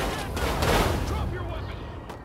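A dense burst of gunfire strikes a tower in the Destroy All Humans remake, a rough, loud rumbling clatter that swells and then fades over about two seconds.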